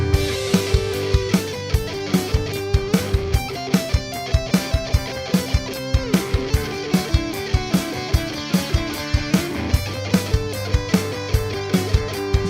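A guitar runs a scale as a repeating sequence pattern, with quick notes picked in a steady, busy rhythm.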